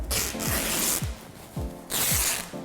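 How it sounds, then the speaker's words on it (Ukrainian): Scissors cut through cotton fabric seams to make a pan mat, with a close, rasping snip-and-tear texture in two long strokes broken by a brief pause and soft clicks of the blades. "Там, де в мене шви, я їх вирізаю."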